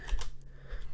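A few rapid clicks on a computer keyboard, close and clear over a low background hum, over within about a second.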